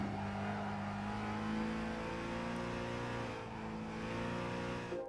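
A car engine revs during a test drive, heard as a loud, steady, close drone with a rich harmonic hum that holds nearly constant throughout.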